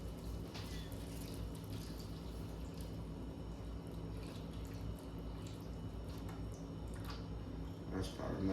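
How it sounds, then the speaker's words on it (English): Beef broth pours over burnt ends in a pan, a faint, steady liquid trickle with soft splashes under a low background hum and occasional clicks. "we're gonna pour this beef broth over top of them"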